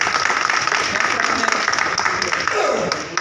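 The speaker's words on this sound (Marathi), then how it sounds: "सर्वांनी त्यांचं टाळ्या स्वागत करायचं" Audience applause at a community gathering in Nashik marking a birth anniversary celebration: a dense, steady wash of clapping from a crowd that fills the whole moment with no break.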